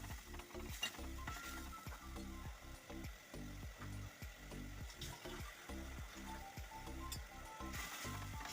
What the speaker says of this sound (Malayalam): എന്നിട്ട് ചേർത്തൊന്ന് നല്ലവണ്ണം മിക്സ് ചെയ്ത് കൊടുക്കാം.